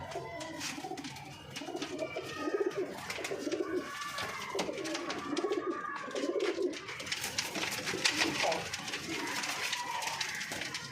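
Pigeons coo continuously throughout, a layered chorus of soft throaty calls from several birds close by, with faint rustling beneath.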